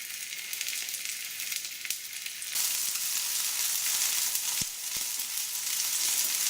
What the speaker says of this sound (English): I've just seared off one batch, the nice crusty brown bits on the outside.